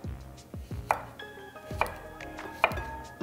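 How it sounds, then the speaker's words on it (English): Knife slicing an English cucumber on a cutting board, with about four crisp cuts landing at steady intervals at close range over a faint kitchen hum and a soft ringing tone. "we're gonna use an English cucumber and I'm gonna cut it into little slices like this"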